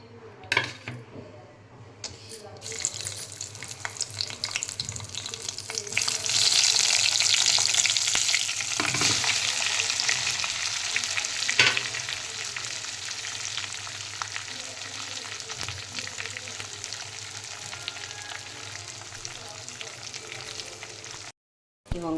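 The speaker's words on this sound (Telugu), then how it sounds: "ఈ వంకాయలన్నీ ఆయిల్లో వేసేసుకున్నానండి" Small stuffed brinjals fry in hot oil for a dry fenugreek curry, a loud, continuous close sizzle that surges after they go in, with occasional scrapes and clinks of stirring and a brief cutoff near the end.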